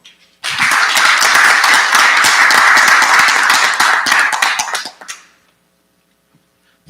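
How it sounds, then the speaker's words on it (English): A room full of people applauds the competitors at the 2025 Cayman Islands Business Design Competition, with loud, dense clapping for about four and a half seconds before it fades out quickly into near silence. "a big round of applause for our 2025 Cayman Islands Business Design Competition competitors"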